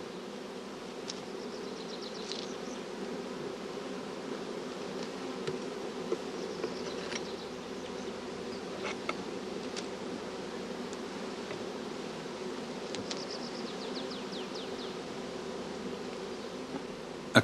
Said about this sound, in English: all flying bees will soon return to it